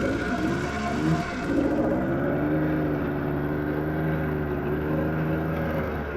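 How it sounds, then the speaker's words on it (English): A 1985 Honda Odyssey 350 FL350R off-road buggy drives down a road, its engine droning steadily with a rising whine as it picks up speed after about a second, then holding a loud, even hum. "We're gonna go down the road and see how this thing runs."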